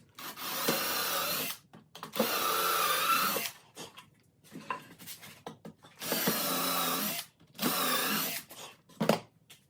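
A Forstner bit bores a large entrance hole in a wooden birdhouse, sounding as four sustained power-drill runs of about a second each. Short pauses separate them, filled with quieter rubbing and handling noises, and no one speaks.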